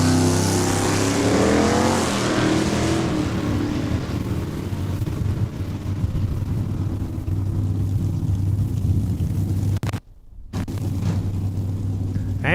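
A Vega drag car roars hard down the strip at a Saskatchewan International Raceway points final, a loud sustained engine blast that fades briefly before a short gap and renewed rumble.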